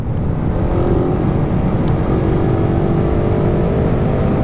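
A Suzuki Raider 150 with a carburetor runs close by, its engine holding a loud, steady, throaty roar with slight rising revs throughout and no voices.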